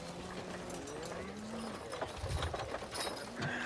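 Horse hooves clip-clop steadily in a video game, several hoofbeats at a walking pace heard through a busy, mid-level game soundscape.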